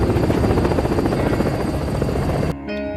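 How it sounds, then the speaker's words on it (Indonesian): Helicopter in an animated science-fiction film, its rotor and engine roaring loud and steady, then cutting off sharply near the end into a quieter tonal hum. "sistem helikopter mulai terganggu karena pusaran energi yang sangat besar dan mereka kemudian langsung mendarat"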